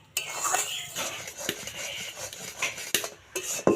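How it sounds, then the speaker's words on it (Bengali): A spoon stirs and scrapes a mango sondesh mixture in a pan. The sound is close, with uneven metallic clinks and scraping strokes and a few sharper taps against the pan. "এটা কিন্তু নাড়াচাড়া বন্ধ করা যাবে না নইলে কিন্তু তলায় লাগতে পারে"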